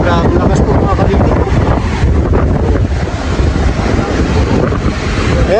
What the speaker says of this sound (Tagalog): Hangin natin mga insan. Grabe, lakas po mga kalingap.